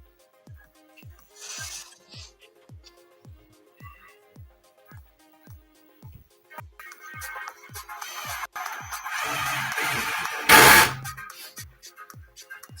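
A drill's motor whirs in a rhythmic series of short descending chirps forming a tune, spaced about half a second apart, then a busier burst of louder whirring and rattling near the end.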